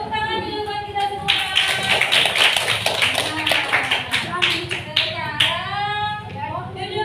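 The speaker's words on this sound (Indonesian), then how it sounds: "Tepuk tangan dulu buat kita semua." A group of children claps hands together in a classroom, a busy patter of taps running under loud, overlapping young voices for several seconds.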